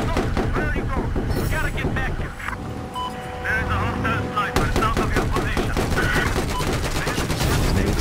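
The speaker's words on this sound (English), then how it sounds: "Machine gun is up." A tank's machine gun fires in a battlefield video game, rattling out in dense, rapid bursts that run almost the whole time, loud and close, with a voice talking over the gunfire.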